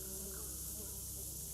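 A steady, droning insect buzz like a swarm of bees, played as a sound effect and holding evenly throughout at low level with no pauses.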